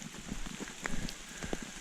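Rain falling on an Appalachian Trail hiking path: faint, soft patter with scattered individual drops ticking irregularly against a quiet background, no talk.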